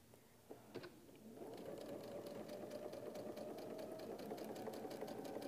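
Sewing machine stitching quilt block pieces for a double windmill block, a steady fast mechanical chatter that starts after a second of quiet handling and runs on evenly, fairly faint.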